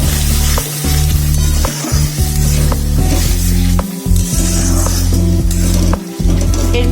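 Coconut paste goes into a pan of prawn malaikari and sizzles loudly and steadily close by, with a low cooking hum and occasional stirring scrapes.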